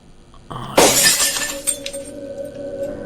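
Glass shatters in a video game, a window breaking with one sudden loud crash, followed by a tinkling spray of falling shards that fades over a couple of seconds.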